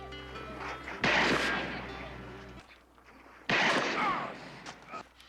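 Two loud, sharp .44 revolver gunshot blasts about two seconds apart, each ringing out with a long echoing tail over background noise, from a film scene.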